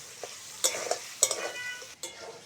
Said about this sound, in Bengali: পেঁয়াজের সঙ্গে মাছের মাথাটা আর একটু ভেজে নেব, সঙ্গে পেঁয়াজটাও ভাজা হয়ে যাবে।